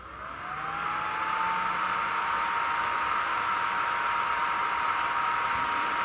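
A laser engraver powers on with a rising whine that settles into a steady, loud hiss of its fan and air system, running continuously and evenly with no one speaking.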